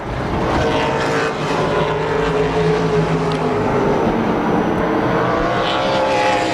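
Super Late Model race cars roar around Tucson Speedway, a loud continuous engine drone with shifting tonal whine as the pack passes nearby, no voices over it.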